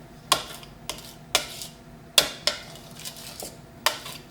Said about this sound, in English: So I'm just going to scrape the sides of the bowl too to add in all the sugar.